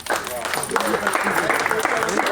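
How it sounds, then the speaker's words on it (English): An audience applauds at the inauguration of a Rotary Club computer lab in Lagos, a dense, fairly loud round of clapping with a voice speaking over it. "That's a clap for this auspicious occasion."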